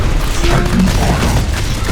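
Gunfire and explosions fill a battle in the video game Terminator: Dark Fate - Defiance, a loud, continuous rumble of booms and shots with no pause.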